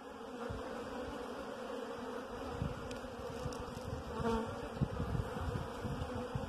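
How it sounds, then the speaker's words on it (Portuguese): Young Italian honeybees buzz steadily at an open hive during honey harvesting without smoke, a dense close swarm drone filling the whole stretch with no voices. "Isso aqui tudo é abelha nova."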